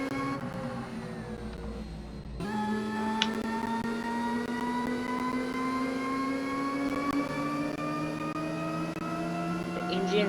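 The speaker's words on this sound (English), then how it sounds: "The engine sounds great" Racing-game car engine from Asphalt 8 drones steadily with rising and falling harmonic pitch as it revs through turns, loud and continuous after a brief quieter opening.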